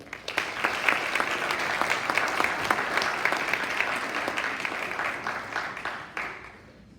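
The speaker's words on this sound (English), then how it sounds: "Give it up for Marissa Scholl." An audience at an upper school winter sports assembly applauds a swim team in a full, steady burst of clapping that holds for several seconds before tapering off.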